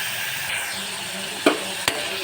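Chicken sizzles steadily in a pan while cooking for a curry leaves chicken curry, a loud, close hiss broken by two short knocks of a utensil.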